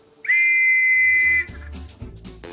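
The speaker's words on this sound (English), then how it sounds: "This whistle is the work of Brummie entrepreneur Joseph Hudson." A Hudson police whistle, the design made by Birmingham maker Joseph Hudson for London police, blown in one loud sustained shrill blast of about a second, then cut off, leaving low background noise.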